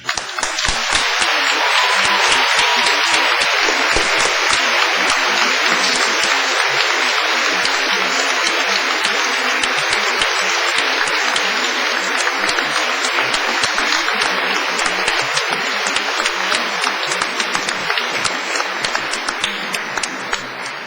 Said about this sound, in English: giving them all a big wave and an enthusiastic round of applause